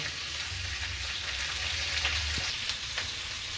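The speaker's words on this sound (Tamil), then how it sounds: "எல்லா காயும் சேர்த்தாச்சு இப்போ நம்ம கொஞ்சம் பெரட்டிப்போம்" Mixed vegetables for aviyal, among them potato, beans, snake gourd, cucumber and brinjal, are stirred in a pan over a steady soft sizzle, with a few light scraping strokes.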